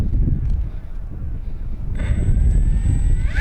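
An FMS Fox 3000mm electric RC glider's motor runs at full throttle outdoors. A loud, steady broadband roar builds into a rising high-pitched whine partway through.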